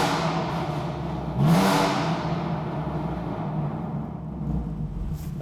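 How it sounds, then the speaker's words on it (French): Exhaust of a stage 3 tuned BMW M4 CSL in M2 mode with valves open, a loud nearby rumble and whir with a brief rising rev in the middle and steady engine drone throughout. "donc trois niveaux d'échappement, normal, valve fermée, normal, valve ouverte, mode M2"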